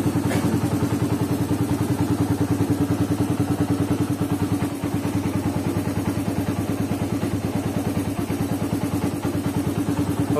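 A Suzuki Satria FU motorcycle, just serviced in a workshop, idles close by after starting, with a steady, rapid pulsing engine beat and faint mechanical clatter running throughout.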